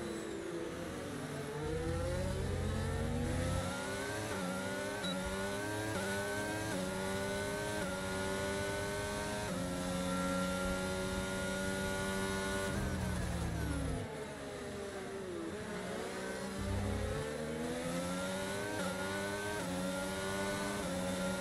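F1 race car engines in F1 22 at the Austrian circuit, a continuous high whine rising and falling through gear changes, with several cars layered together and no talk.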